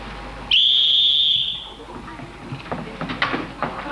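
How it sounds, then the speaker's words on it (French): One sharp, shrill whistle blast rings out and fades over about a second, followed by muffled rustling and background noise. "Ah non, c'est un sifflet."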